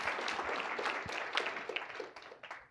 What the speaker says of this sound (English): Let's clap for Daniel.